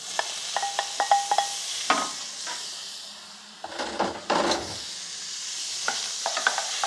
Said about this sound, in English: You can hear the sizzle. That's just the water in that meat coming out.